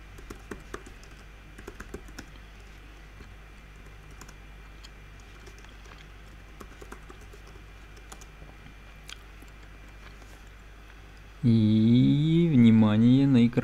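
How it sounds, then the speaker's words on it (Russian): Text is typed on a computer keyboard, with scattered soft key clicks and taps at an irregular pace, close but quiet, before a loud voice abruptly takes over near the end. "Ну и теперь мы вводим текст"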